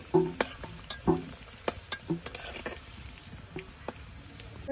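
Potatoes and winter vegetables frying in oil in a pan while being stirred, with sharp scraping clicks and knocks over a low sizzle, moderately close and without speech.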